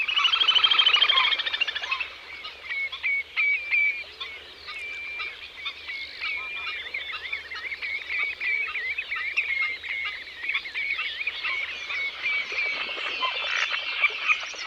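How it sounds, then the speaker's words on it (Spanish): Little grebe giving its whinnying trill at a wetland, rapid high warbling runs mixed with other waterbird chatter, sustained and fairly close against a constant low background hum, no voices. "El relincho del zampullín."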